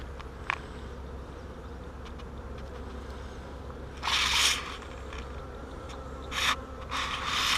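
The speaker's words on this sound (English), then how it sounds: "I'm trying to get all these bees out of the way" Honeybees hum steadily around an open hive during an inspection, a close, continuous drone broken by a few bursts of louder, brighter buzzing and some faint scraping of equipment.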